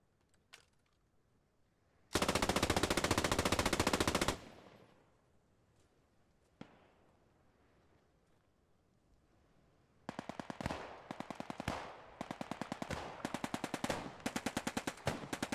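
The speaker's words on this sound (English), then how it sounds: "The Brits returning fire on the MG position." Machine gun fire in the World War II shooter Post Scriptum, starting as a sustained loud burst of rapid shots. Later come steady rhythmic return fire and scattered single shots, all with no talking.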